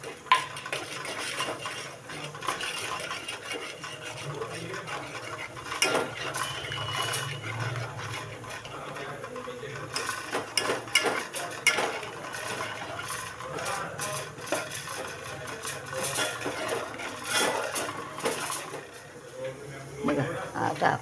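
Turmeric, salt and water being stirred in a pot with a utensil, producing steady scraping and clinking of metal against the pot throughout, with talk over it.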